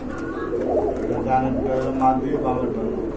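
A pair of blue Rajgolla pigeons coos close by, giving soft repeated rolling calls over about three seconds while someone talks over them.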